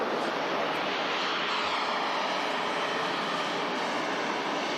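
A Singapore airliner passing over Manchester Airport through the cloud layer gives a steady, broad jet roar that stays fairly even and moderately distant throughout, with no voices.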